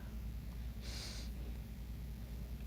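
One short, close nasal sniff at a bottle of nail polish, a quick breathy burst standing out from otherwise quiet room tone.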